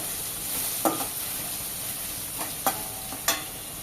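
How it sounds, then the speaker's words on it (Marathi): 7 to 8 cloves of crushed garlic sautéing in a pan for masala dosa filling, a steady close hiss of frying with a few sharp scrapes of stirring. "तर त्या सुद्धा आपण थोडासा रंग बदलूपर्यंत परतून घेऊया।"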